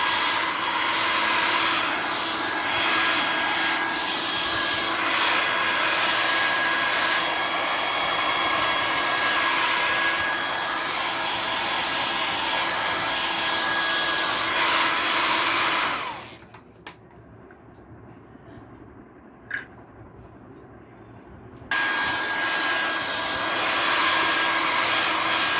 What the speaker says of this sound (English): I may make use of the dryer